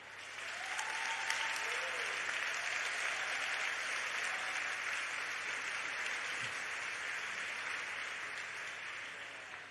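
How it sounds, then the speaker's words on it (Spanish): Steady applause from the audience at a literary award gala in Spain, greeting the first finalist of the Premio Aena de Narrativa Hispanoamericana; the clapping stays dense and even for nearly ten seconds at moderate level, with no one speaking over it. "Un aplauso para él."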